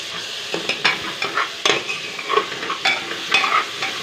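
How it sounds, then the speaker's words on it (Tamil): Onions fry with ginger and garlic in a pan and are stirred, giving a steady close sizzle broken by repeated scraping strokes of the spoon against the pan, with no talk. "அடுத்து வெங்காயத்தை சேர்த்து நல்லா வதக்கிடுங்க."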